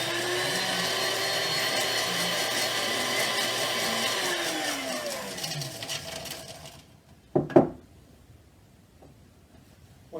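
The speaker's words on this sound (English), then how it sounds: "To the spindle blender. Again, blend for 4 or 5 seconds." A spindle blender whirs loudly and steadily as it blends a rum tiki cocktail with Angostura bitters and ice, then winds down and stops, followed by a couple of sharp clunks and near silence.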